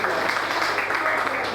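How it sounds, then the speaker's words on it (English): An audience at a reunion dinner gives another round of applause. The clapping is brief and even, with a voice audible through it. "Please, another round of applause."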